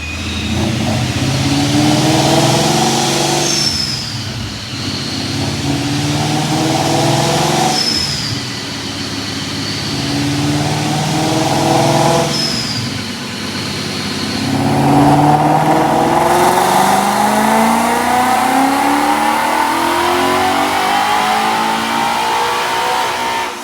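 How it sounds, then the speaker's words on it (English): A supercharged 2016 Ford Mustang GT with a Paxton supercharger revs hard on a dyno in repeated loud pulls, climbing in pitch, dropping back, then winding up again, close and sustained without speech. "Check out this dyno pull."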